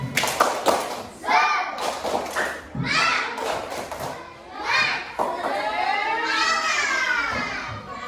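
Schoolchildren in a primary school classroom shout a rhythmic clapping chant together, sharp hand claps and thumps mixed with loud young voices, close and lively, with the chant rising in bursts across the room.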